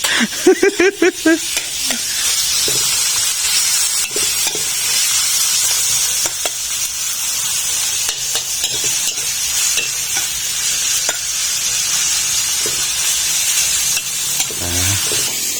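Fresh cabbage and pork are stir-fried in a pan, giving a loud, sustained sizzle with repeated clanks and scrapes of a spatula; a few bangs open the clip and a voice talks over it faintly.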